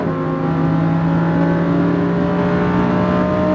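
Lamborghini Huracan on a track, its engine droning loud and steady from inside the cabin as it pulls hard under acceleration, a constant full-throated roar filling the whole stretch without pause or voices.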